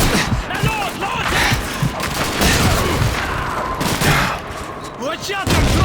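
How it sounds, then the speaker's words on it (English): Rapid MG42 machine gun bursts and scattered gunfire fill a Call of Duty 2 Stalingrad city hall battle, loud and dense throughout, with booms and shouted voices in the mix. "Feindliche Machine Gun MG42! Hinter uns!"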